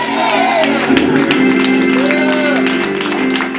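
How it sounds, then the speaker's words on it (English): A church congregation claps and shouts, making a loud, dense crowd noise of cheering and whoops with voices mixed in throughout. "Clap your hand and shout, yes!"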